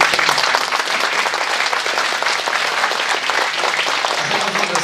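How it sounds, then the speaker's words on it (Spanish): Applause from an audience at a workplace health and safety forum in Cajamarca, a dense, steady wash of clapping from many hands that fills the whole stretch and tapers slightly at the end. "Aplausos, por favor."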